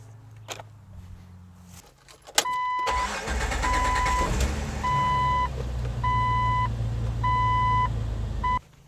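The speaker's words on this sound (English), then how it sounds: "Let's just go see if the Jeep starts." A Jeep engine cranks and catches after a boost from a J20C Plus portable jump starter, settling into a steady idle while a door-open chime beeps at regular intervals before everything cuts off.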